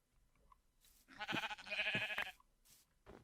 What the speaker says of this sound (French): on va devoir récolter un maximum de moutons